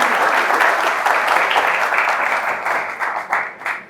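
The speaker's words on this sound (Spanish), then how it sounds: "Démosle un aplauso al presidente, por favor." A room of attendees at a book club event applauds the former president, producing a full, steady wash of clapping that slowly thins toward the end.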